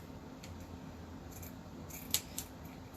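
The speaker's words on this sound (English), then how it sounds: "just cut your straight edge" Scissors snip through burlap fabric to trim a straight edge, a couple of brief crisp cuts near and fairly faint against a quiet room background.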